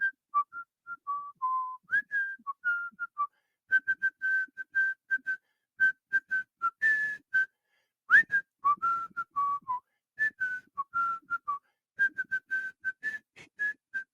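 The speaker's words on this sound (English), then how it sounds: "I get to whistle us out" A person whistles a lively tune in clear, close phrases with short pauses between them, and no voices are heard.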